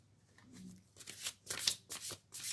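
Tarot cards are shuffled and drawn for a weekly reading, a quiet ruffle giving way to a run of crisp riffling bursts in quick succession, close up with no talking.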